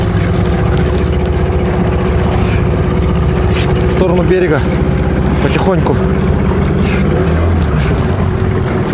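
An outboard motor on a fishing boat on a river runs steadily and close by, a constant drone with wind and water noise underneath while a man gives short spoken directions.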